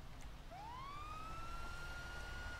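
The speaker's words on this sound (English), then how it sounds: "Yeah, I just heard your sirens going." Emergency vehicle siren in a firefighting and police game, one rising electronic wail sweeping up and holding steady, fairly clear over a constant low engine rumble.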